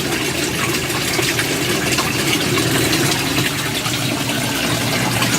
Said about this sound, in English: You can see this drip system is really going.